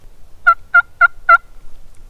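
A hunter's quiet yelps imitate a hen turkey on Mississippi public land: four soft, evenly spaced call notes about a quarter second apart, close and clear over faint background hum.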